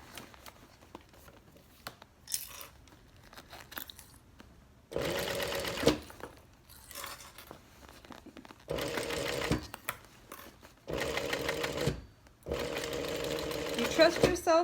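A sewing machine stitches a tote bag strap, back-stitching over it, in several close runs of a few seconds each, separated by quiet gaps with fabric handling.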